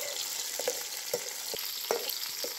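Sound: onions and dried chillies sautéing in a pan

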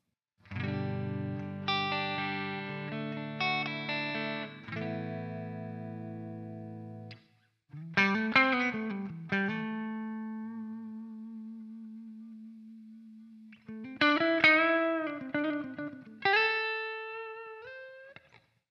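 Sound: electric guitar played through NOVA GO SONIC with processing

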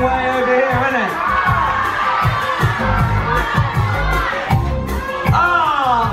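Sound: crowd cheering at a cruise deck game

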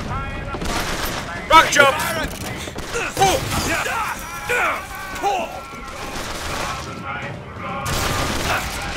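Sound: gunshots in the video game Bioshock Infinite

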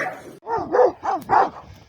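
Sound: dogs barking while attacking

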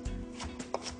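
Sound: knife coarsely chopping parsley

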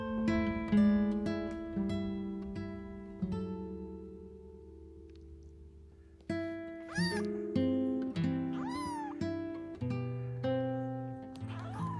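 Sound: kittens meowing

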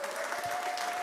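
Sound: congregation applauding in a church hall

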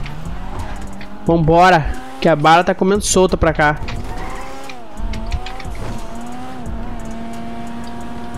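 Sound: car driving with tire squeals in GTA RP video game

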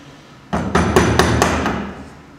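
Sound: chisel struck to cut a mortice in timber

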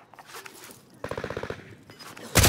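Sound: gunfire in a shooter video game

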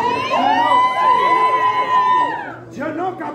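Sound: audience cheering and shouting at rap battle

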